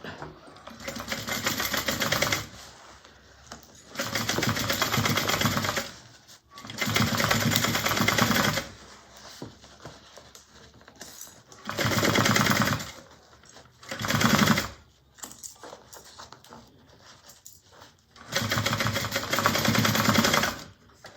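A sewing machine stitches the sides of a Mabella bag at a half-inch seam, running in about seven loud, steady bursts separated by short pauses, with no talking.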